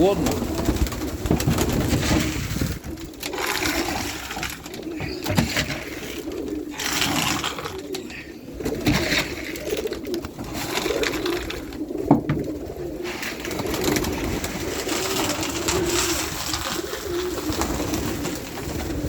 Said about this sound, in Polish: Nie puszczamy dzisiaj gołębi